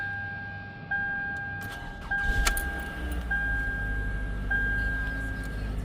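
A 2010 Toyota Camry LE with the 2.5 engine is started up. A steady chime sounds over faint key noise, followed by a cranking burst and a low, even idle that settles in close by.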